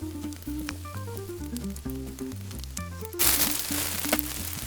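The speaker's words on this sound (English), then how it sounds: "Hear that sizzle," Homemade meatballs drop into a pan of hot oil and set off a loud, broad sizzle that swells about two-thirds of the way through, with steady music playing throughout.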